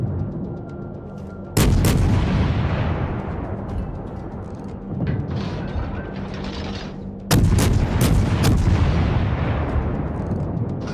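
Naval gunfire from the Russian Tier II cruiser Novik in World of Warships, two loud salvos of booming shots, each trailing off into a long rumbling decay.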